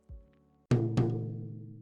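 A pair of strikes on the second rack tom of a drum kit, loud and close, the two hits in quick succession followed by a long resonant ring, after a soft low thump at the start.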